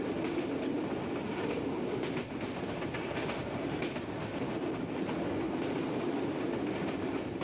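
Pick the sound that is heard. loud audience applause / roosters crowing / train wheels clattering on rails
train wheels clattering on rails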